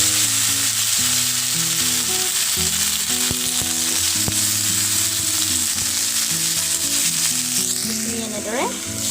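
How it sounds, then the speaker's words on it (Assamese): Potato and pointed gourd pieces fry in hot oil for an Assamese pointed gourd curry, giving a loud, steady sizzle throughout, with a few stirring scrapes toward the end. "এইখিনি এনেদৰে ভাজি লোৱাৰ পিছত আমি ইয়াতে দি দিম কাটি লোৱা আলু আৰু পটল কেইপিচ।"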